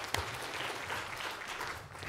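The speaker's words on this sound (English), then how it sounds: "Can we one more round of applause?" Applause from the audience at a science diplomacy panel discussion, a dense, steady clatter of clapping that fills the whole moment at moderate volume with no voices on top.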